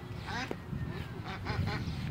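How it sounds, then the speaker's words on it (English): Several agitated ducks give loud, repeated honking calls in bursts on a farm, close by over a steady low rumble of background noise. "I think there's a bunch of angry ducks coming for us."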